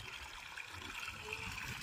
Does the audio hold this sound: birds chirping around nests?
no